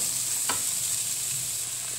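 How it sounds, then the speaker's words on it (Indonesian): Bean sprouts stir-fried with red and green chilies and tomato sizzle steadily up close in a hot pan, with a brief stir or clatter partway through and no talking. "Kita tumis sebentar."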